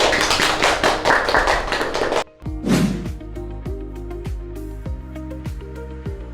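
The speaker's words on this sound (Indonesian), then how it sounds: "benar sekali jawaban Nak Dodi, beri tepuk tangan" Students clap their hands together in a classroom, a dense burst of clapping that stops abruptly, followed by a sharp hit and a few sparse taps fading out.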